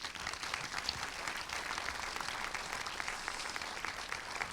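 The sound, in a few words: audience applause at film festival opening ceremony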